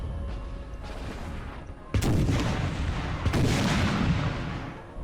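Cannon artillery fire in the Napoleonic-era strategy game Napoleon: Total War, with two loud booming volleys about a second apart that roll into a long rumbling decay over steady battlefield ambience.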